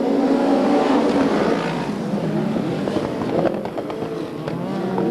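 A pack of USAC Western States midget race cars roars hard as the field accelerates to the green flag on a dirt oval, loud engines revving and rising together, close and continuous.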